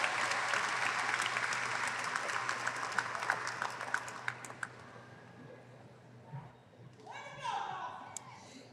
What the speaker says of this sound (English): Graduates, let's give this group of supporters a huge round of applause.